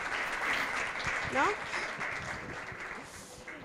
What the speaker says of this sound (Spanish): otro aplauso para ellos